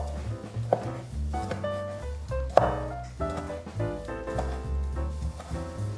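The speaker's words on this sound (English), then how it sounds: "Green onion needs to be diagonally sliced." Knife chopping green onion diagonally on a cutting board for Korean budae jjigae, a few distinct chops standing out over steady background music.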